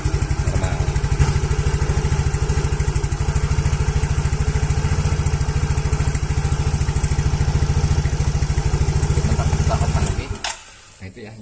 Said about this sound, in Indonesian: Coba kita cek lagi motor nyalakan apakah benar normal.